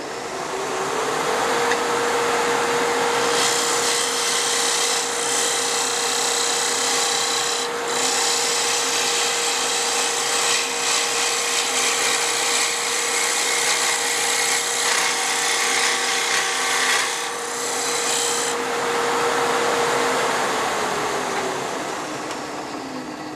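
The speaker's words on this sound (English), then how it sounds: "I am ready to sand that and put the edge on it." A power tool sanding the inside of a bracelet gives a steady, loud, continuous whirring grind with a sustained motor tone. Rasping contact noise rises and falls for over twenty seconds, with no talking.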